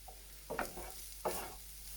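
Chicken and vegetables with paprika stirred in a frying pan, a few distinct scraping stirs over a quiet, steady sizzle, close and fairly faint.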